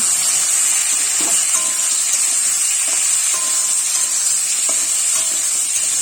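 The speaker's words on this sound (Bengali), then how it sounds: "আলুগুলো একটু নিয়ে চেড়ে নেব" Potatoes frying in a pan hiss and sizzle steadily and close by, with a few faint clinks of stirring scattered throughout and no talking.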